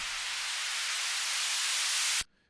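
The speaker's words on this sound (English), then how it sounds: "So there's a noise being filtered up," A steady hiss of white noise from the Serum synth, brightening as its filter sweeps upward, then cutting off abruptly into near silence.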